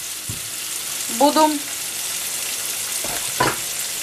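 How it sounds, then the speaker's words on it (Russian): Green peppers fry in a pan with a steady, close sizzle throughout, broken by a few knocks and a short spoken word. "И вот поджариваем немного"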